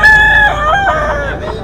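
A gamecock stag at a rainy outdoor seller's market gives one loud, close crow that rises and then trails off in a drawn-out call.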